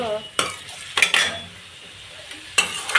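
Onions fry in a pan until they turn brownish, with a soft sizzle and several sharp scrapes and taps of a spatula as they are stirred close by.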